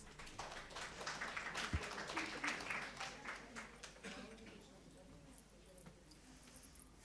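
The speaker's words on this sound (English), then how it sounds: "You're clapping before the vote of thanks" Audience applause at an academic conference session on diplomacy and peace in Eastern South Asia, a dense wash of many hands clapping that stays steady, then thins out and fades toward the end.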